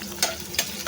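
Onions and chillies fry in hot mustard oil for a bitter gourd and dal dish, with a steady close sizzle broken by three brief louder bursts of stirring.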